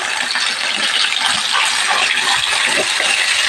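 Small fish fry in hot oil in a pan, making a steady, loud, dense sizzle that continues without a break.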